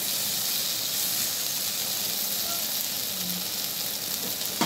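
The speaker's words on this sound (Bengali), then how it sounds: "এইভাবেই ভাজা ভাজা হবে।" Steady sizzling of taro stolons (kochur loti) frying in a pan for a vegetarian dish without shrimp or coconut, a continuous close hiss with light stirring and no clear talk over it.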